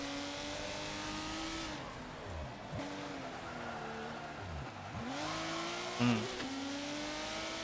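An all-wheel drive car's engine in Forza 7 drones steadily through an off-camber hill climb corner, its pitch dipping and rising with gear changes and throttle lifts, loud and continuous with a brief bump near the end.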